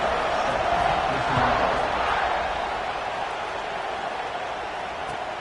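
A football stadium crowd roars steadily just before kickoff at a Notre Dame game, a dense, loud wash of cheering and shouting that holds throughout with a slight swell early on.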